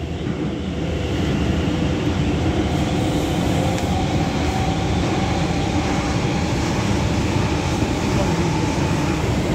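An MTR K-Train metro train on Hong Kong's Tung Chung line rumbles steadily along with a continuous, loud rolling drone and faint rattling, no pauses throughout.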